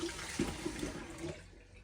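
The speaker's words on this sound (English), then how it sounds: "Kind of want to wash the shells off first." Egg shells are washed under running tap water, a close splashing stream with a few gurgling bursts that fades toward the end, no talking.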